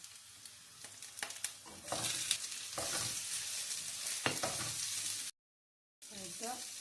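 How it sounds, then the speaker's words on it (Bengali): Onions frying in oil along with browned garlic and fenugreek seeds for spinach shaag give a steady, close hiss, with stirring scrapes throughout and a short silent gap near the end. "এখন তো আমি পেঁয়াজ দিলাম"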